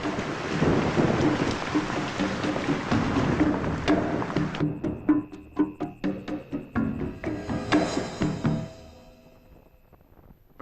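Heavy rain falls loudly with thunder rumbling, then the downpour abruptly thins to scattered, distinct drips and splashes that fade toward near silence.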